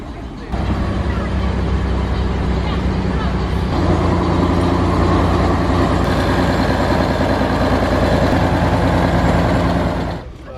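A small old-style open-air tourist train near a train museum comes up with a loud, steady, droning engine rumble that holds at a constant level for about ten seconds before cutting off.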